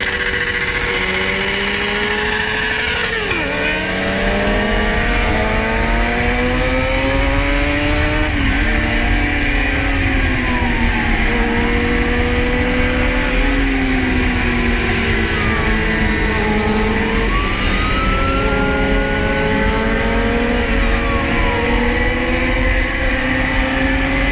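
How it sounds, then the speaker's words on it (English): A group of motorcycles ride down a busy road doing wheelies, engines revving up and down in overlapping rising and falling whines, loud and continuous with several bikes passing close, no talking. "A group of bikers is riding down a busy road, showing off by doing dangerous wheelies."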